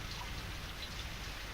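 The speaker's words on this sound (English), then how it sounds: "the rain still continued" Steady rain falls in a storm scene of a Frankenstein audio drama, a dense, even hiss of raindrops continuing without pause at a moderate, distant level, with no voices.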